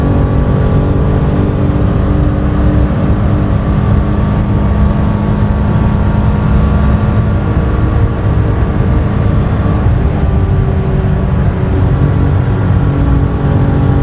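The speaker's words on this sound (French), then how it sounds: "t'as un GT3 et tu oses freiner ici" A Porsche GT3 on the Nürburgring circuit drives with a steady, loud engine drone and road roar throughout, a constant rumbling hum with faint rising harmonics and no speech.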